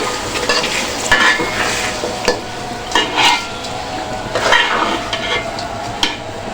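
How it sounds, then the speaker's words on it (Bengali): Khichuri being stirred in a cooking pot, with repeated scraping and clinking strokes of a spoon against the pot over a faint cooking sizzle, close and moderately loud, no talking. "আমিও হচ্ছে একটু নেড়ে চেড়ে দিচ্ছি।"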